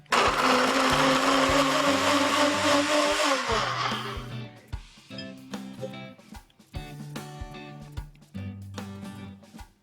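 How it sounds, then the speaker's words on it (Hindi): A mixer grinder whirs loudly as it blends coconut with water, then cuts off about halfway through, and music plays on afterward. "अब हम इसे मिक्सी में डाल देंगे पानी के साथ।"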